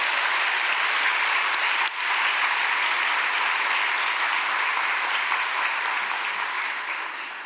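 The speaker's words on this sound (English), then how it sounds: "please give them another round of applause" A large breakfast-event audience applauds steadily and loudly for about seven seconds, a dense wash of clapping with no talking that fades slightly toward the end.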